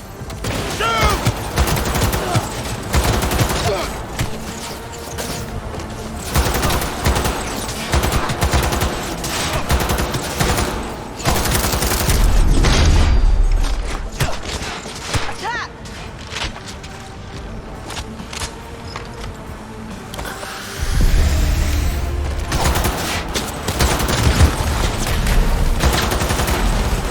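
Rapid, sustained gunfire from the video game Cyberpunk 2077 rattles almost continuously, loud and dense, with heavier bursts and booming impacts woven through the shooting.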